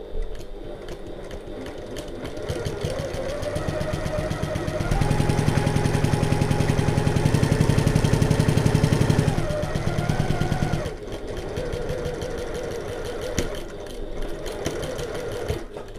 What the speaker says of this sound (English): I'm going to back stitch at the start and the end of this.